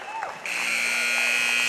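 At a high school boys' basketball tournament semifinal in a gym, the game buzzer cuts in abruptly and blares loud and sustained, with an announcer's voice partly beneath it.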